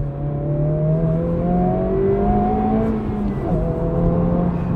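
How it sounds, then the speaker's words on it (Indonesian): A Honda Civic Type R FL5 engine in +R mode hums steadily with a low drone that rises and shifts in pitch as it accelerates, smooth and close, with no talking. "Kalau kita masuk ke mode Plus R, itu ada suaranya ada mendengung sedikit."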